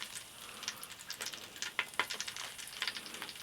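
Onions sizzle and crackle in melted butter in a pan, cooked in a cave, with a close, steady fry broken by bright spitting pops and no talking.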